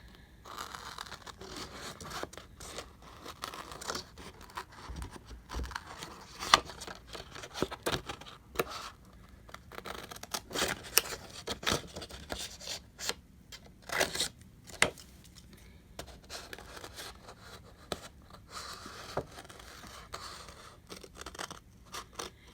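Scissors snip and crunch through paper strips for Christmas craft embellishments, close and irregular, with scattered sharp cuts, small rustles and handling noises and no talking.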